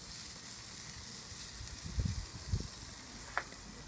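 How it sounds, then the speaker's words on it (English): Burger frying on a hot plate, a faint steady sizzle and hiss with a few soft pops and clicks, low and continuous with no talk. "the bottom side should already be nicely sizzling away and caramelizing"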